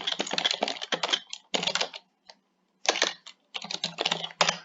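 Quick bursts of typing on a computer keyboard, close and crisp, coming in short clusters broken by brief pauses, with no one talking.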